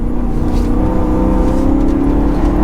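A supercharged E90 BMW M3 engine revving on a downshift, a steady loud drone with a whining, rising engine note heard from inside the car, no talking.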